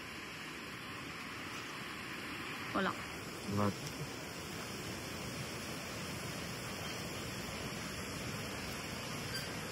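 Steady broadband rush of water flowing in a stream near Munnar, constant and fairly close throughout, with a couple of brief faint sounds partway through and a short spoken word.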